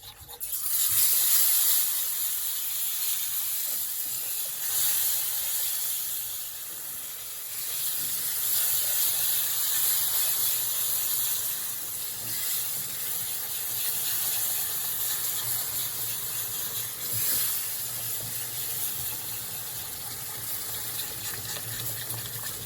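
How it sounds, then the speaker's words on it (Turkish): Syrup is poured into hot chocolate halva and hisses steadily for a long stretch, a broad, rushing sizzle at moderate loudness that rises and falls as it is stirred in. "Şimdi artık şerbetini dökeceğim."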